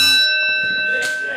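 A wrestling ring bell rings at the start of a brutal three-way match, its bright sustained metallic tones hanging and slowly decaying while crowd noise and a commentator's voice run underneath.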